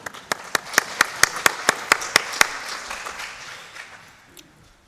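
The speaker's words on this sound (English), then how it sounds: "You could clap yourselves if you like." Scattered claps from an audience at the RSCDS annual general meeting, about a dozen distinct hand claps in a steady rhythm, fairly close and moderately loud, thinning out and fading over the last couple of seconds.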